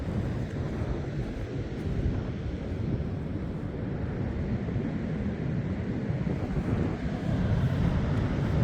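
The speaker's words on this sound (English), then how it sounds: "It's going to be a bit windy, I'm sorry." Wind blows across a beach among the dunes, a steady, loud low roar buffeting the microphone without pause.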